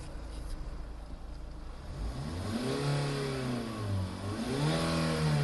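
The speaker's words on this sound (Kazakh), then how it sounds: "Мотордун иштегенин көрдүңүздөр." A car engine idles steadily, then revs up twice in rising and falling surges, loud and close, with no talking.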